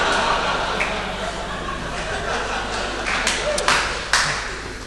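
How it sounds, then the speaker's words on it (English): Comedy club audience laughing and clapping after a stand-up joke, a steady crowd wash of chuckles and scattered claps with a couple of sharper hand claps near the end. "Oh, a laugh and a clap"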